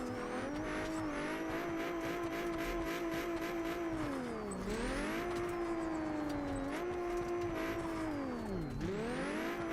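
Simulated drift car engine in BeamNG or Assetto Corsa, revving hard and steadily with pitch dipping and climbing through each corner, loud and continuous with a whiny, buzzy tone and no talking.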